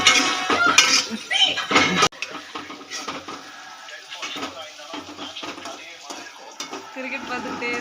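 Chopped large onion and two green chillies being fried in hot oil, with a loud clatter of utensils and stirring at first, then a quieter, steady cooking sound with light scraping.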